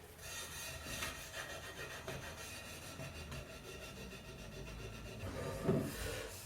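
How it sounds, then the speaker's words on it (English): Steel wool scrubs the last paint off a Kenwood Chef mixer part, making a close, continuous scratchy rubbing with rhythmic back-and-forth strokes and a slightly louder scrape near the end. "Just use some steel wool. Then removes the last bits of paint."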